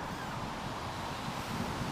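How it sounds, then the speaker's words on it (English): Wind gusting against the microphone, producing a continuous rushing roar with low buffeting and no voices. "Like I say, it's still windy."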